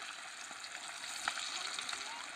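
Chicken pakodi pieces fry in oil over a wood-fired stove, giving a faint, steady sizzle with small crackles and pops, heard close but quiet.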